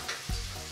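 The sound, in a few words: onions with salt and turmeric frying in pan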